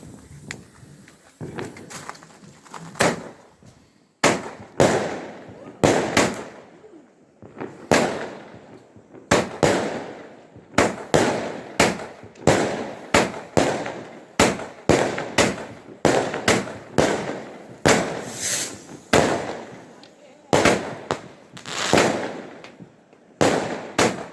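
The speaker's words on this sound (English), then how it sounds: "that has to be one of the loudest rockets I've had" Fireworks rockets bursting on Bonfire Night in the UK, a long series of loud, sharp cracks and bangs in irregular rapid clusters with brief gaps, echoing over an outdoor setting.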